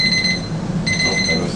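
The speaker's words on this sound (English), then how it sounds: "Oh, that was the timer." A kitchen timer beeps loudly in a rapid electronic pattern, pausing briefly midway before resuming, close and alone in a home kitchen.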